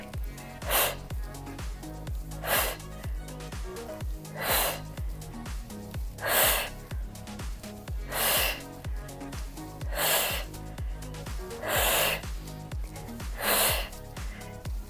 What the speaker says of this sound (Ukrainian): Видих, вдих. Видих, вдих.